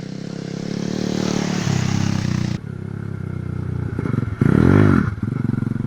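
Motorcycle engine revving loudly and close during a riding lesson in Jamaica, a steady idle-to-rev drone with a sharp throttle blip and surge near the end, no talk.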